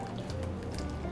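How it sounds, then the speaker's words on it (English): Maseca corn flour being stirred into water for champurrado, a steady wet squishing and dripping texture that continues without a break and stays close and moderately loud. "now you can add the maseca with water"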